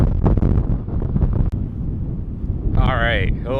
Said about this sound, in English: It's the next day and still windy, but not as bad as yesterday.